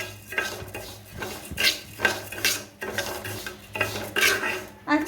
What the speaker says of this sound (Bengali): ডালটা ভেজে নিচ্ছি লাল লাল করে।